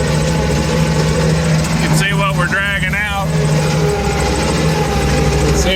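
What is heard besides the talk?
AGT Industrial KRW23 end loader engine running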